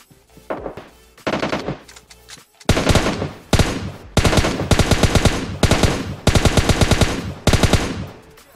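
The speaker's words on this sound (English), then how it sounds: "Someone shooting at my people." In the mobile game PUBG Mobile, loud rapid automatic gunfire rings out in several bursts of quick shots, each burst followed by a short echoing tail.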